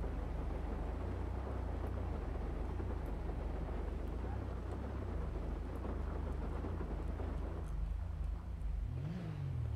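A car in the video game GTA V backing up in the rain: a steady low engine rumble and hiss that holds throughout, with a brief rising engine swell at the very end.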